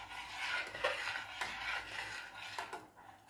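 Thick Jaffna dodal (thothal) stirred continuously in a pan, a steady scraping and rubbing of the spoon against the pan bottom with soft rasping strokes, close and alone with no talk.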